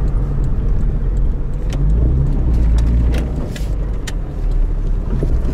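A Lada Priora on air suspension drives along, heard from inside as a loud, steady low engine and road rumble with scattered light clicks and creaks.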